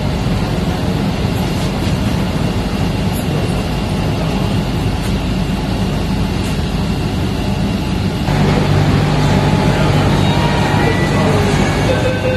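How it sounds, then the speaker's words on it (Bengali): A Kolkata East-West Metro train runs loud and steady as it comes out of a tunnel. A broad rumble and rail roar are heard from on board, and they grow slightly heavier and more open partway through. "ট্রেনটা টানেলের ভেতর থেকে এবার বাইরে বেরিয়ে এলো"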